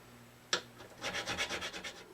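A single sharp tap, then a fine-grit file rubs across guitar frets during fret crowning, about nine quick, even back-and-forth rasping strokes, close and moderately loud.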